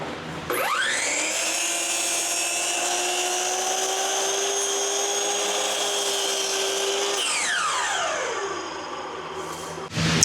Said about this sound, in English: I'm going to set up my miter saw.